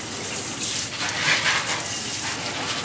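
Water runs steadily from a tap over a freshly repotted houseplant, a continuous close hissing rinse with no one speaking.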